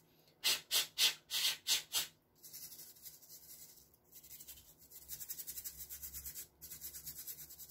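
Breath blown across a circuit board during resoldering of IC pins: six short, strong puffs in a quick series, then softer rubbing and brushing sounds continuing close by.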